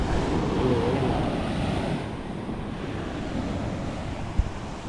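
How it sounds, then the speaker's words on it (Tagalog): Ocean surf rolls in a steady broadband roar, mixed with gusty wind buffeting the microphone and a single soft thump near the end. "Pag sa umaga laki ng alon."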